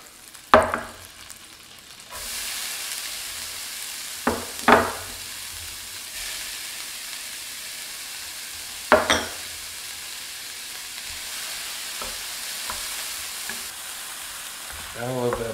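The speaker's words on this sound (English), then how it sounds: "Gonna cook down this garlic and onion until it gets nice and translucent" Garlic and onion cook down in a hot pan with a continuous steady sizzle and frying crackle, broken by a few louder stirring scrapes, close and prominent throughout with no talk.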